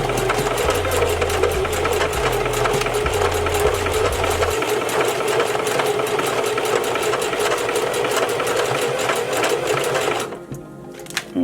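A sewing machine stitches hair tracks together, a fast, steady mechanical whir and rapid needle clatter running close and loud, then stopping near the end.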